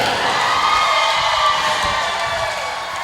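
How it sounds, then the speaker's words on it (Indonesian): An audience cheers and applauds at a vocal group performance, a loud, continuous wash of crowd noise with shouts and whoops and no break. "berikan tepuk tangan yang meriah"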